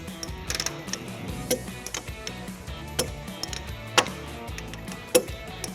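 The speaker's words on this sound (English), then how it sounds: "We'll go ahead and torque all of our bolts to manufacturer specifications." Hitch bolts on a 2017 Toyota Camry being torqued with a wrench, giving faint irregular clicks and ticks with a few sharper metallic snaps, close by and without talk.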